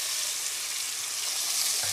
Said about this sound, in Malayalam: ഇനി നമുക്ക് ഇതാ നെയ്ക്കകത്തൊന്ന് വറുത്തെടുക്കാം.